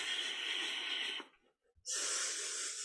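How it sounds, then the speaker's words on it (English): Forceful, rapid breathing during a kundalini yoga exercise, close and hissing, with a brief pause before the breaths start again. "Keep breathing for 30 more seconds"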